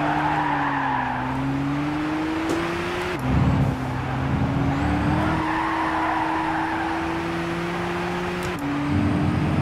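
A race car in Gran Turismo 6 holds a drift, engine droning steadily at near-constant pitch as the tires squeal, with brief gear-shift dips in the tone and no talk.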